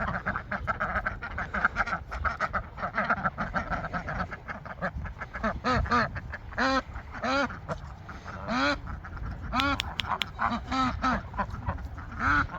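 Several jumbo Pekin ducks quack loudly and repeatedly up close, a busy overlapping chorus of harsh nasal calls with no talk.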